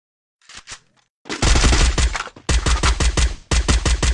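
Rapid bursts of automatic gunfire in a first-person shooter match, loud and close, firing in several long volleys with brief gaps, preceded by a couple of quieter single shots.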